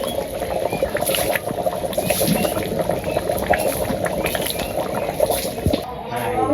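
Rice boiling in a pot in a village kitchen gives a continuous, close bubbling and gurgling of liquid that stays fairly loud the whole time, with faint background voices.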